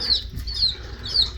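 Small bantam chicks, including a silkie and a buff bantam, clucking and peeping in a home brooder; three short, faint high chirps spaced across a soft low hum.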